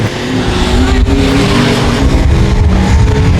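A street stock race car roars down the back straightaway at a short dirt speedway, engine noise loud, steady and continuous throughout with a dense broadband rumble and no break.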